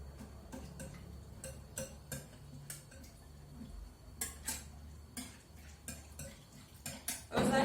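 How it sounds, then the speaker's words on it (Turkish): Whisk clicking and tapping against a bowl while starch is beaten into a mixture for oven-baked rice pudding in a home kitchen, quick irregular strokes, close and fairly quiet. "Şimdi bunların üçünü güzel bir şekilde nişastanın hiçbir şekilde topağı kalmayacak gibi çırpıyorum."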